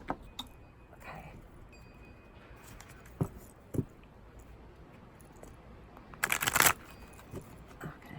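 Quiet room with a few soft taps, then a brief riffling burst of tarot cards being shuffled, followed by light clicks.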